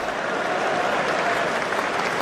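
A cricket Test match crowd roars after a boundary, a dense, steady wash of cheering and clapping that holds at full volume throughout with no gaps.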